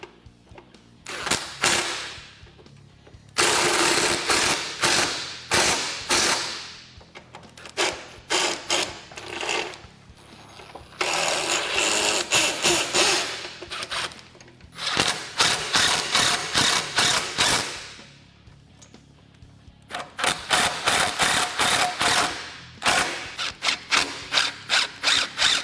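A ratchet wrench fully tightens the nut on a rear frame stiffener bolt of a Kawasaki Teryx KRX 1000, giving off loud, rapid clicking bursts that repeat in several long runs with short pauses between them.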